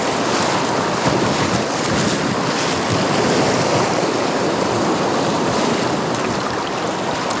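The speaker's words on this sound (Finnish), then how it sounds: "kuohut tästä koskesta" Whitewater rapids on the Ivalo River in Lapland roar during a packraft trip, a loud, unbroken rushing close by, mixed with wind buffeting, with no talking.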